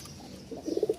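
A male pigeon coos close by, a short run of deep throbbing notes that swell in the second half and stand alone against quiet background.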